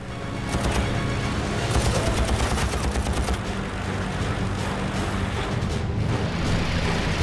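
Rapid, continuous bursts of machine gun fire from a P-51 Mustang in an air battle, loud and dense, layered over a heavy rumbling roar.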